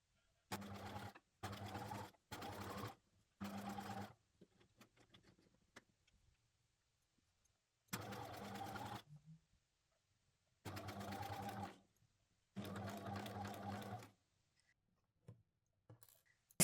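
A sewing machine stitches a seam on a pleated bamboo cushion cover in several short runs of rapid, even whirring, each followed by a pause with faint handling noises, close and clear.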